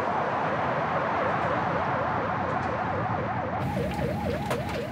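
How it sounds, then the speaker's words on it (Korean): An ambulance siren wails in a steady rising and falling cycle over a continuous road rumble, moderately loud and sustained throughout, as a Korean 119 emergency ambulance turns back. "그런데 구급차 다시 방향을 돌립니다."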